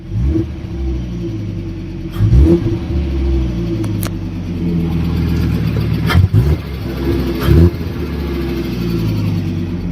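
A rare, long-neglected Fiat Stilo Abarth, just warmed up after sitting for a long time, idles with a low steady rumble and is blipped to higher revs several times, each burst rising sharply and falling back to idle.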